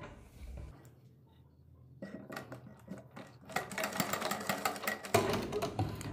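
Sewing machine stitching a heart appliqué onto a garment sleeve, a rapid mechanical needle clatter that starts after a quiet pause and runs in bursts, close and fairly faint.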